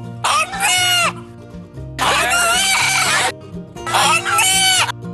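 A crow in Palghar that mimics a word gives three loud, harsh, drawn-out caws separated by short pauses, close to the microphone over a steady low tonal background.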